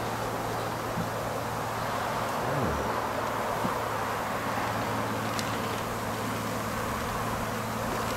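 Honeybees buzzing as a swarm during a hive installation in Alaska, a steady dense hum with a low constant drone underneath, continuous and close throughout with no talking.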